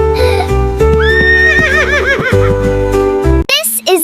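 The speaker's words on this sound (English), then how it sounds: "This is a horse." A horse on a farm neighs in a long, wavering whinny over a bright children's music backing, loud and close, with a brief higher flourish near the end.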